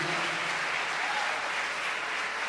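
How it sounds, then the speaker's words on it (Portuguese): A church congregation applauds during a sermon, a thick, even wash of many hands clapping together, close and steady throughout. "Pode aplaudir a Jesus."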